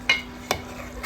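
A spoon scrapes through an egg and drumstick curry in a pan, giving three short separate scrapes about half a second apart over a faint background hum, with no voices.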